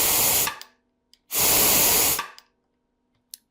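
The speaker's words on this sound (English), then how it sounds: "we're going to check that with a little bit of compressed air" Compressed air blown into a piston hole of a Toyota A340 transmission gives two loud, close bursts of hiss, a short one then a longer one of nearly a second, with faint brief puffs between them.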